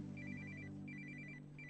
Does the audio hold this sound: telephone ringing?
yes